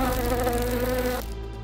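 A housefly buzzes continuously and close up, with a steady droning hum that drops slightly near the end.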